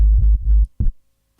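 Heavily distorted, crushed low end of a neuro bass synth patch: two loud, thick sub-heavy bursts, the first long and growling, the second short and punchy, followed by near silence.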